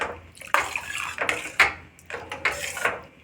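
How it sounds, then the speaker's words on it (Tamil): Water poured into a pot of sambar made with capsicum and ladies' finger, coming in short splashing bursts with metallic clinks, fairly close and quiet, no talk. "கொஞ்சம் தேவையான அளவுக்கு தண்ணி விட்டு பாருங்கள்."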